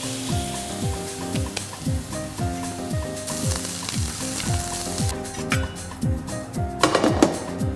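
Veal rib chops sear in a little fat in a frying pan, giving a steady, close sizzle with crackling pops and a few metallic clinks of the pan, louder bursts near the end.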